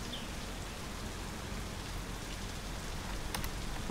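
Steady rain in the My Summer Car video game hisses evenly throughout, a dense wash of drops falling on surfaces, with no talk over it.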